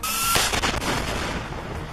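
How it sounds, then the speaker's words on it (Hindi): SAM-7 missiles fired at Israeli aircraft and drones in Gaza. A sharp burst opens into a loud, sustained, roaring whoosh close by, with no talking. "इजरायली एयरक्राफ्ट्स और ड्रोन को सैम 7 मिसाइलों से निशाना बना रहे हैं।"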